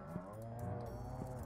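Cows in the farming video game Stardew Valley moo in a short, low, close, sustained lowing call with no talk over it.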